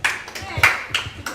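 A small group claps to cast a tie-breaking vote about lacrosse teammates, several short bursts of hand claps in quick succession, fairly close and moderately loud, with a few individual sharp claps standing out.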